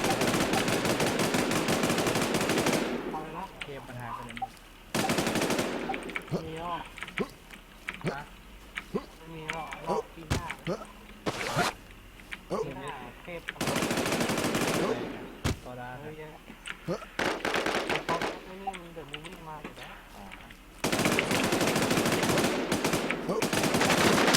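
Repeated automatic gun bursts from a player firing in the online shooter WarZ, loud and close, broken into several long volleys with someone talking in the gaps.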